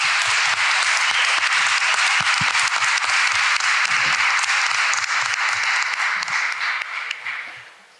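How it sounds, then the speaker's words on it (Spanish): Loud, dense audience applause at a Partido Obrero international political gathering, sustained clapping from a large crowd that holds steady and then fades out toward the end. "Le pedimos que se acerque para que nos dirija la palabra con un fuerte aplauso."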